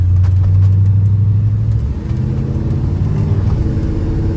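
A 1968 Ford F-100 Ranger pickup with a 390 V8 four-barrel and a shift-kitted C6 automatic accelerating hard, its loud, deep engine drone dropping briefly at a gear change before pulling again.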